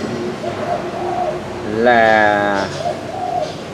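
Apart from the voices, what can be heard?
dove cooing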